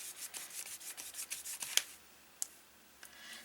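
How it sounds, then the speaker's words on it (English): A paintbrush smushing and rubbing paint onto paper in a junk journal signature, with quick scratchy back-and-forth strokes in an irregular rhythm, close and fairly quiet, with no talking. "This is just smushing. I'm just smushing paint on here."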